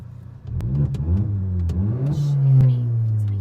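A Volkswagen MK7 GTI with a straight-piped exhaust revs loudly and close by, its engine note climbing and falling through several throttle blips before holding a sustained high rev.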